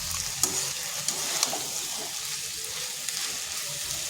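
Potato, soybean and chana dal sauté in a pan with a steady, moderate sizzle, punctuated by a few clinks and scrapes of stirring, no talking.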